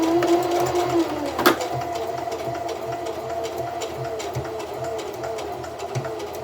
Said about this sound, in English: Tell me, why are sewing machines so difficult?